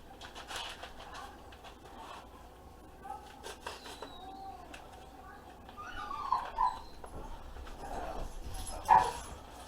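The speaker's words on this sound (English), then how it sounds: "the dogs are starting to go nuts" Dogs bark and whimper in short irregular bursts against a quiet kitchen background, the loudest yelps clustering in the second half.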